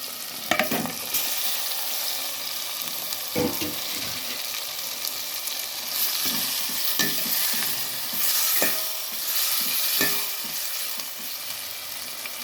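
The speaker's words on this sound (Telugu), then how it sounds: "ఇది వేసిన తర్వాత టమాటా పచ్చిమిర్చి వేసేద్దాం." Tomatoes and green chillies frying in a pan for pulao, with a continuous soft sizzle and occasional spoon scrapes and clinks from stirring, close and alone without talk.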